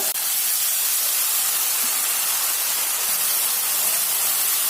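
Tamarind juice poured into a hot pan of frying spices, giving a loud, steady broadband hiss and sizzle that fills the whole stretch without a break.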